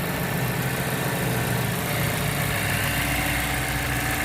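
A car engine idles smoothly and evenly after a misfire on cylinder number 3 was fixed, a steady close hum with no stumbles or gaps throughout.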